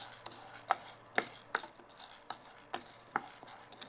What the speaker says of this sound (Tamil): முதல்ல கடலைப்பருப்பு லேசாக வறுபடட்டும்.